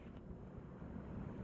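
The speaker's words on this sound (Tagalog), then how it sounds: "It's very windy all the time here" Steady wind buffets the microphone outdoors at night in a breezy Singapore neighborhood, a constant low rumbling roar with no pauses, close and fairly faint overall.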